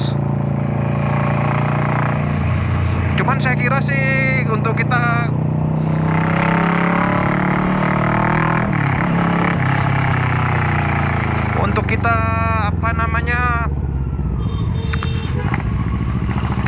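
A 2018 Kawasaki Versys 650 mid-size touring motorcycle fitted with a Two Brothers aftermarket exhaust idles with a steady low drone throughout, close by and continuous beneath someone talking over it.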